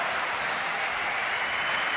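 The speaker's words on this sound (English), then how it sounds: "And he deserves that clap from Goran." Steady applause from a tennis crowd, a continuous even wash of clapping at moderate volume, with no voices on top.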